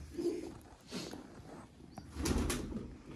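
Red-eyed breeder pigeons heard close by at a loft, with soft low coos and rustling wing flaps coming in a few short bursts and no talk over them.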